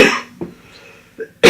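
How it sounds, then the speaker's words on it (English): Several sharp, loud coughs close to the microphone, a burst at the start, one short cough, a faint one, then a final strong cough. "keep coughing"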